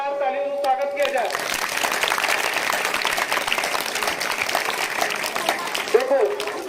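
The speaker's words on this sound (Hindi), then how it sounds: "लिए एक जोरदार ताली से स्वागत किया जाए" Loud, sustained applause greets students who brought saplings from home for a tree-planting drive. A dense, steady clapping wash lasts several seconds, with a voice talking just before it starts and again as it fades.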